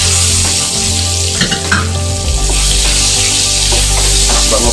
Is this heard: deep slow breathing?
no